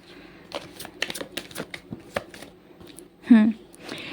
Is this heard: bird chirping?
no